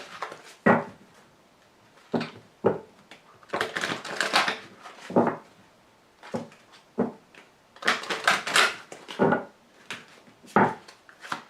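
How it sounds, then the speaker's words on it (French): Oracle cards being drawn from a deck and handled, heard as a series of crisp shuffling, snapping and flicking bursts in irregular clusters, close by and moderately loud, with no talking. "je vous tire tout de suite une carte de l'archange Gabriel"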